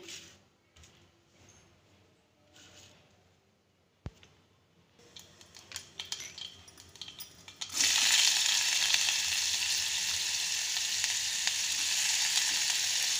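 Onions drop into oil where mustard seeds have been spluttering: first quiet scattered pops and clicks, then a sharp tap, then a sudden loud, continuous sizzle that fills the rest.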